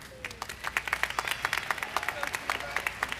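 Commencement audience applauding the college deans, a brisk patter of many hands clapping at moderate distance for a few seconds.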